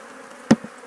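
Honey bees drone in a steady low buzz while hives are combined, broken by a single sharp wooden pop from the hive boxes and a smaller knock just after.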